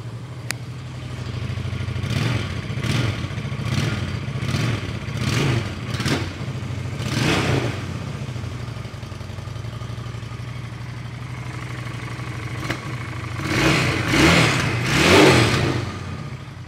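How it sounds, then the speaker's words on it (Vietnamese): A Honda Shadow Phantom 750 cruiser motorcycle engine idles with a steady low rumble, then revs repeatedly in short bursts, with a stronger run of revs near the end. "Rồi nổ máy quý khách nghe nha, anh em nghe"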